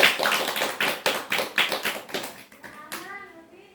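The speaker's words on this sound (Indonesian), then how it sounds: "Tepuk tangan semuanya" A small group of children claps together in a counseling session, the sharp slaps coming in a fairly quick, uneven rhythm up close before fading, with a voice and brief speech at the end.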